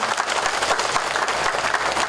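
A hall audience applauds at a school anniversary celebration and hotel launch at a vocational high school in Tulungagung, a steady, dense wash of many hands clapping together without pause.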